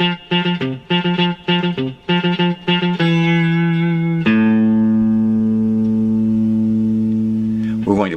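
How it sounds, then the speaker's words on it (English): Clean electric guitar picks a lead line from a song, short palm-muted notes in a choppy rhythm with echo, then longer sustained ringing notes to the end, loud and alone. "For our next riff, we want to do a little palm muting."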